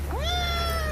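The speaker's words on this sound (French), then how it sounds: "il a tout de même un temps pour se détendre avec ses chats et ses deux chats, Nounou et Bobby." A single close cat meow, rising then holding a steady tone, heard alone over a low constant hum.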